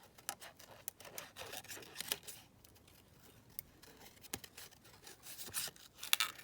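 Scissors cutting out a paper butterfly, quiet close snips and crisp paper rustles coming in irregular bursts with short pauses between cuts.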